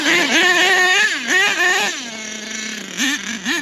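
An HPI Savage nitro RC monster truck engine revs hard in repeated rising and falling bursts, settles into a steadier buzz, then blips again, loud and close with a raspy, high-pitched small-engine whine.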